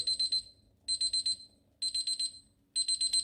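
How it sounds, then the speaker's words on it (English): A TFA digital BBQ meat thermometer alarm beeps in four quick bursts of four high, sharp electronic tones each, close and clear over a faint background. "And turn off the alarm."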